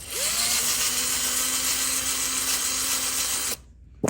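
Power drill spinning a Phillips bit wrapped in sandpaper and held with a hose clamp, during repair of a Cub Cadet 173 cc self-propelled mower engine: a loud steady whine for about three and a half seconds, then abruptly stops.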